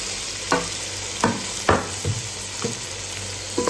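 Tomatoes and potatoes are stirred into frying chicken curry with ginger and garlic, a steady sizzle broken by several sharp spoon scrapes and clatters against the pan, close and alone.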